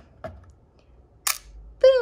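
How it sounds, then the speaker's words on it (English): Lubitel 2 medium format camera shutter releasing with a short sharp mechanical click, close and alone in a quiet room, followed by a voice. "This is your shutter button."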